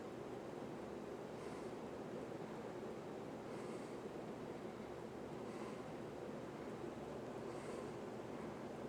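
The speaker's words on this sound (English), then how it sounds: "it really moves decent air on high for the direct drive motor that it is" An Emerson Northwind Designer series 52-inch polished brass ceiling fan with a direct drive motor runs on high, giving a faint, steady airy whoosh with soft rhythmic swishes about every two seconds.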